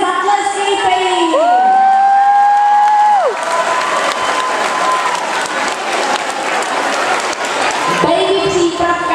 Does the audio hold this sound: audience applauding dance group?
yes